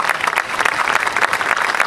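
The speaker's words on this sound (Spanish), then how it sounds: "un aplauso para ellos que siempre están participando en cualquier evento de" Loud, close applause at a community event in Almirante Brown honoring Malvinas veterans, a brisk, dense burst of many hands clapping.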